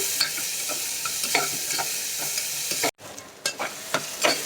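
Chopped onions sauté with a little salt in a pan for a dried-fish curry, giving a soft sizzle broken by repeated scraping stirs, a brief dropout near the middle, then more stirring strokes.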